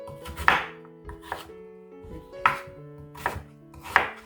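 A knife chops Cheongyang chili peppers and a chunk of radish on a cutting board, giving sharp, close board knocks in irregular clusters, about six distinct strikes with brief pauses between.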